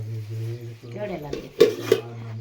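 Metal cooking pots clatter and clink in a home kitchen, with two sharp knocks close by after a low steady hum and a voice in the background.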